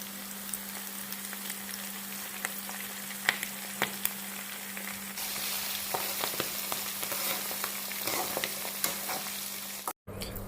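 Ivy gourd fries in hot oil, a continuous crackling sizzle punctuated by scraping stirs of a spoon against the pan, with a low steady hum in the background and a short dropout near the end.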